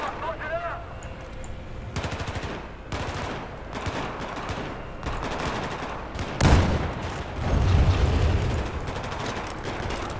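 Gunfire from the Battlefield 4 video game crackles in rapid automatic bursts and single shots, with a heavier blast near the end, while players talk over the action.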